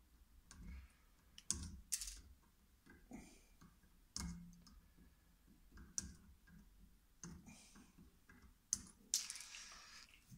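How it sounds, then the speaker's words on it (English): Snips cut component leads on a Glasshouse 10k mono shunt attenuator build, giving a series of sharp, close clicks spaced irregularly over a quiet background. "Then I'll snip down these so I can actually turn the knob."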